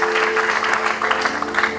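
A church congregation applauds and cheers for the Lord during a French-language sermon, with dense, steady clapping and a sustained tone beneath it, close and lively for a couple of seconds.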